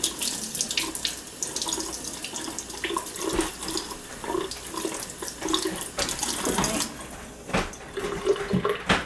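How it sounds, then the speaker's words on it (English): Warm water runs steadily from a tap over a doll's hair in a sink, a continuous close splashing rush with no voices. "So we're going to kind of use a little bit warmish water, but not real hot."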